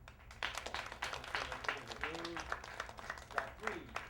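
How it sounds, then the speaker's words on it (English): Studio audience clapping on cue during a television production taping, scattered hand claps building into moderate applause, fairly quiet and uneven in rhythm. "Applause, please."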